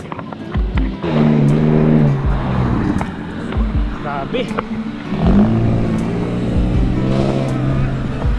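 Cars driving on the uphill road just before the descent toward Kaybiang Tunnel, engine and tire noise running throughout at close range, with a person talking over it.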